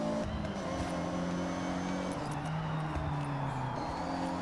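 A Mazda Miata engine drones steadily in Forza Horizon 6, a sustained tone with shifting pitch as the car drives, loud and continuous with no talking over it.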